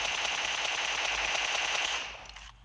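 Gunfire in PUBG Mobile: a sustained stream of rapid automatic fire, loud and steady, that trails off into quieter echoes near the end, with no voices over it.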